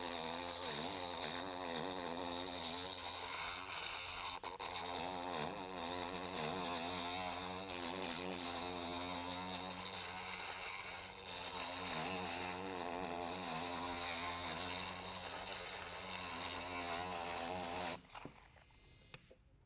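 NSK high-speed rotary tool, run at about 10,000 of its 30,000 rpm, grinding a custom wood-carving burnishing tip: a continuous close whine with a wavering, buzzing tone that holds steady, then cuts off abruptly near the end.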